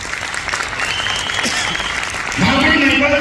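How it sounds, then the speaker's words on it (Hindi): Audience at an AWPL motivational talk breaks into hearty applause, a dense, steady clatter of clapping hands that swells louder toward the end as a voice rises over it. "जोरदार ताली थोड़ी सी।"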